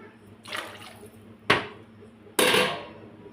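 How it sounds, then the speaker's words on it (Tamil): Water is poured into a cooking pan holding vegetables for Maggi noodles, heard as three close, splashy bursts of pouring with short quiet gaps between them. "மேகிக்கும் சேர்த்து ஊற்றிடலாம்."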